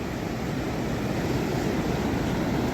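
Rough monsoon sea at Devgad on the Konkan coast produces a continuous, dense roar of crashing surf, steady and fairly distant, with no voices.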